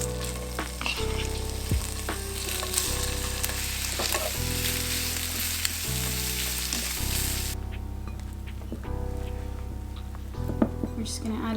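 Thawed food fries in a little oil on a pan, a continuous close sizzle with stirring scrapes and clatter throughout, the crackle thinning partway through.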